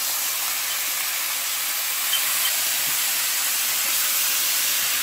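Shrimp and pork stir-fry in a hot pan with a loud, continuous hissing sizzle that stays steady and close for the whole stretch, with a brief spoken remark over it.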